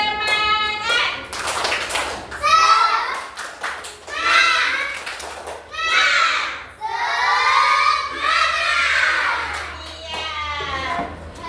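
A class of children chant and clap together in a 'tepuk semangat' cheer, loud sung-shouted phrases punctuated by bursts of rhythmic group clapping, close and energetic over about eleven seconds.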